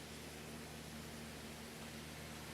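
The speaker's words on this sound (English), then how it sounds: "I'll clean the crap off my tractor." Broadband hiss of a spray washer cleaning a dirty tractor in Farming Simulator 22, a continuous even wash of noise with a faint low hum beneath and no speech.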